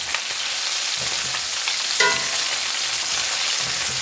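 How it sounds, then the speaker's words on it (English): Bacon strips frying in a pan for a BLT, a loud continuous close-up sizzle with crackling pops and one brief scrape partway through, no talking. "while the bacon is cooking"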